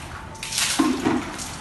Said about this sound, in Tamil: அதுக்கப்புறம் இங்கேருந்து தண்ணி ஊற்றி விடணும்